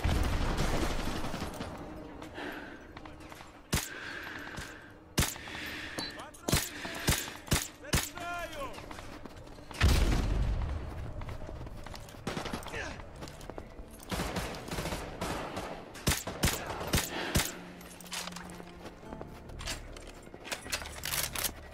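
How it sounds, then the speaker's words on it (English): Gunfire and explosions in the video game Call of Duty Modern Warfare 2 Remastered: rapid bursts of shots and sharp blasts, some close and loud, mixed with weapon-handling clicks and rattles, and voices at times. "Those explosions are gonna attract a lot of attention."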